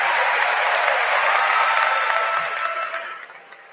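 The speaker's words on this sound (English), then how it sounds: "Please join me in giving Walter Murphy Owenby a round of applause for receiving the Sullivan Award." Audience at a spring commencement ceremony claps in a dense, steady burst of applause that fades out over the last second.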